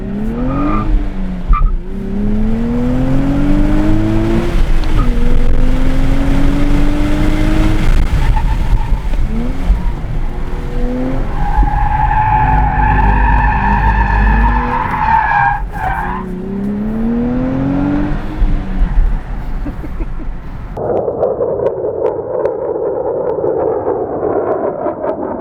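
A 2023 Nissan Z drifting, its engine revving up and down in repeated rising pulls while the tires skid and squeal loudly and close by, ending in a long sustained tire screech with no talking.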